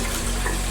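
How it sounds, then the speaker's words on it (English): Tap water gushes steadily into a sink, rinsing canned black beans in a home kitchen, with a loud continuous splashing stream. "I wash them off."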